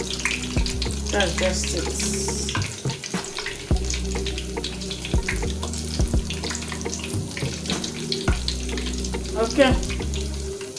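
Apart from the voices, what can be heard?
dough frying in oil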